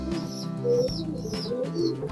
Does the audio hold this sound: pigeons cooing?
yes